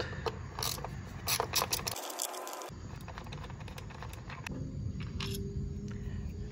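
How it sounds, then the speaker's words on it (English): Ratchet wrench loosening an 8mm bolt on a 2006-2012 Ford Fusion 2.5L engine: quick repeated ratcheting clicks with metallic scraping, close and moderately loud throughout, with a brief pause midway. "Next is we're going to remove this 8mm bolt."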